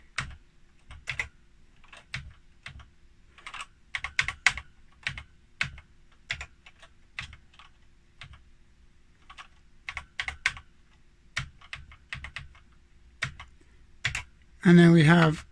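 Keys clatter on an Acorn Electron home computer keyboard from 1985, a steady run of close, sharp clicks and short bursts of typing, ending in a brief louder rattle.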